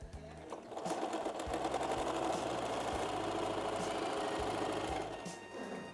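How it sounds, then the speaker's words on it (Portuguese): A sewing machine sews a straight seam, its motor whirring steadily and loudly at close range for several seconds before slowing at the end. "No começo, quando você termina, você dá um retrocesso na máquina."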